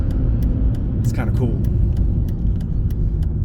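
A sporty car cornering gives off a steady low road rumble and engine drone from inside the cabin, with a person talking over it.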